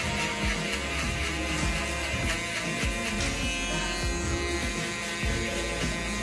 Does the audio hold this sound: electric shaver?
yes